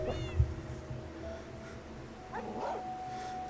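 Cats in the video game Minecraft meowing softly, a couple of short faint meows against quiet background game sounds.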